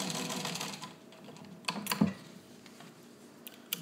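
A restored Singer 15-91 sewing machine stitches at medium speed over a thick seam, giving a continuous mechanical whir with a rapid needle rhythm and a few louder knocks as it climbs the seam.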